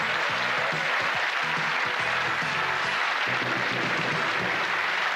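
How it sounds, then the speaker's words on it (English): Studio audience on the Going For Gold quiz show series finale applauds and cheers for the contestants, a dense, steady wash of clapping that holds at full level throughout with low voices mixed underneath. "give a cheer in the studio to the contestants who are going for gold"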